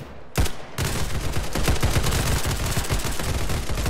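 Rapid gunfire in a Roblox shooting game: dense bursts of automatic shots fire almost continuously, loud and close, with a brief break near the start and no speech.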